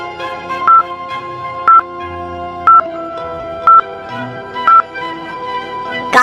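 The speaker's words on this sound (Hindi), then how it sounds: "फोन नंबर के बटन प्रेस करता है" Phone keypad buttons pressed in sequence, each press giving a short, loud dial tone, about six evenly spaced beeps over a steady background hum, no talking.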